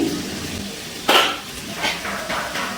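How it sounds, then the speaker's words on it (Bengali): Metal lid lifted off a pot of simmering radish and potato curry, with one sharp close clink of metal followed by a couple of softer clinks. "মিনিট পর ঢাকনাটা তুলে নিচ্ছি।"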